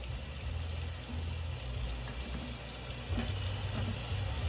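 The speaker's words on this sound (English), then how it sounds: "and my asparagus and my green beans and my squash. I'm gonna go ahead and I'm gonna wash all of these." Tap water runs steadily while asparagus, green beans and squash are washed under it, a close rushing stream with low droning and small splashes shifting as the vegetables move, no talk.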